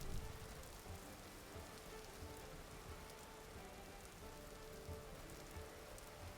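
Steady rain falls in the survival video game Vintage Story during a storm, a dense, even hiss of drops on surfaces that holds at a constant level throughout, with no voices.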